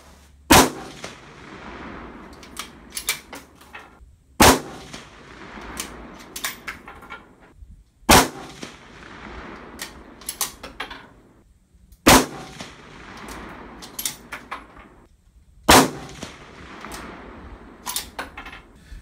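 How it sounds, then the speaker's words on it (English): A Savage 12 rifle chambered in .260 Remington fires at a 100-yard range. Five loud, sharp shots come about four seconds apart, each one cracking and then echoing away, with quieter handling noise between them. "So we're basically going to be shooting out at 100 yards."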